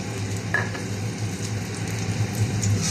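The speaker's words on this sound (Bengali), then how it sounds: "আর একটু বাজে শব্দ হচ্ছে, এটা হচ্ছে চিমনির শব্দ," A kitchen chimney exhaust hood drones with a steady low hum while oil sizzles and fries in a pan close by, with occasional faint stirring clinks and no talking.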